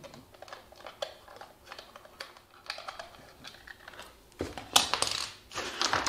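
A coin scrapes and clicks against the screw of the battery compartment on a Siku John Deere 7290R RC tractor, a run of small close ticks followed by louder metallic rattling near the end.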